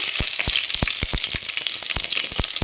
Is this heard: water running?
no